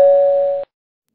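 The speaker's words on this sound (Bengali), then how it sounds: "কলিং বেল বাজায়" A calling bell at the door of a third-floor flat rings once, a clear sustained electronic tone held for about half a second, then cut off into silence.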